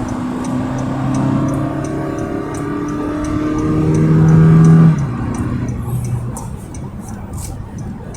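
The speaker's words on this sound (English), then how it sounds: "you're actually able to accelerate very quickly in this vehicle" A 2021 Honda Grace Hybrid EX accelerates hard on the road, its engine drone rising steadily in pitch for several seconds before easing off into a quieter steady cruise, heard from inside the cabin.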